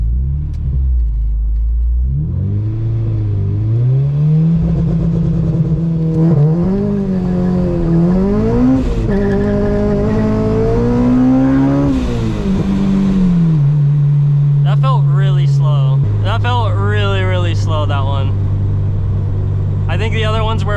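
Supercharged Acura RSX with Kraftwerks kit (350 whp) launching off a two-step: a loud engine rumble with rising revs and shifts, a supercharger whine climbing through the gears, then settling at steady cruise near the end.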